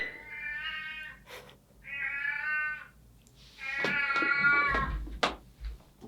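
A cat meows several times in a row, drawn-out tonal calls with short gaps, the last one longer and more wavering, heard close and clear with no talking.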